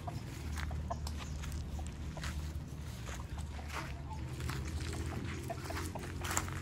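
Backyard chickens cluck and a rooster calls amid a busy outdoor murmur, with steady low rumble and scattered voices in the background.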